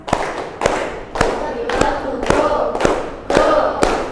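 A class of pupils claps in rhythm along to a science cheer, sharp group claps landing about every half second, close and loud, with crowd voices chanting between them.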